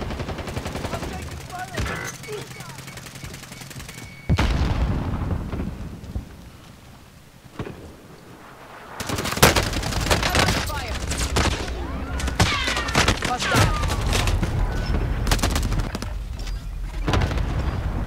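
Gunfire in a video game: after a quieter stretch, a dense, sustained barrage of overlapping shots and crackling bursts builds and keeps going loud and steady to the end.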